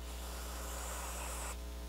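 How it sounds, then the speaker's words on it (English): Oil sprayed from an aerosol spray can while stoning a Ruger SP101 trigger, a continuous broadband hiss lasting over a second and cutting off abruptly, close and alone over a steady low hum. "I got some spray oil here."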